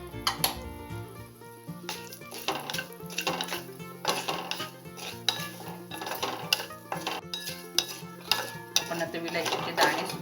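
Cardamom seeds roasting and being stirred in a pan for homemade garam masala: continuous close scraping and rattling of a spoon against the pan, with metallic clinks and a steady bed of crackle throughout.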